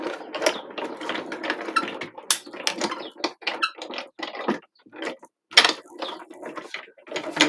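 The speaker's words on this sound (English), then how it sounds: "then we'll just run this through my die cutting machine" A crafting die cutting machine runs with irregular mechanical clicks and grinding bursts, fairly close and loud, steady activity for several seconds with no voices.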